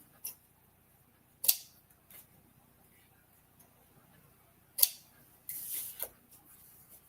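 Scissors snipping through patterned designer paper at a craft table: a few short, sharp cuts spaced out across the stretch, with a slightly longer rustling cut near the end, close and fairly quiet.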